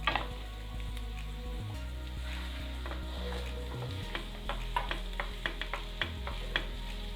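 Mashed potato and raw banana go into a sizzling masala in a frying pan for raw banana paneer cutlets. A soft, steady fry sounds throughout, with a low hum and a run of sharp spoon taps and scrapes near the end.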